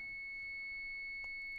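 Radio transmitting steady high test tones from a Mobilinkd NucleoTNC modem, a pair of faint continuous pure beeps holding throughout over low background hiss.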